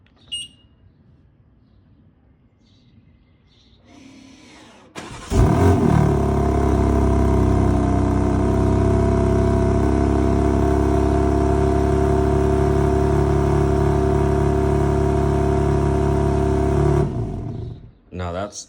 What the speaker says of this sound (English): that's a cold start on the car